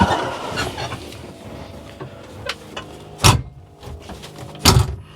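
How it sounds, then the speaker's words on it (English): Can-Am side-by-side doors squeak and clunk with a few sharp rattling knocks over a low engine rumble while driving, irregular and fairly close. "You'll hear all the squeaking as we're driving. Those are the doors, and these are Can-Am doors."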